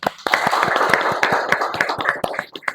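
Students in a classroom clap together, a short round of sharp, uneven hand claps close by, scattered rather than in unison, fading out after a few seconds.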